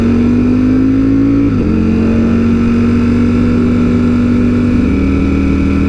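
Ducati 899 Panigale motorcycles with stock exhaust idle and rev nearby, a loud steady twin-cylinder drone with a brief dip and pitch change before settling into a constant hum.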